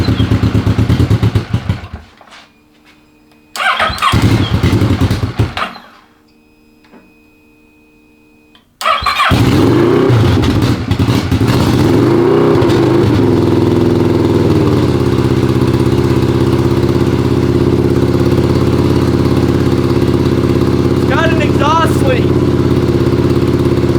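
A 600cc crosskart engine on its first start cranks and catches in short bursts with brief silences between, then fires and runs continuously, revving loud and rough at close range.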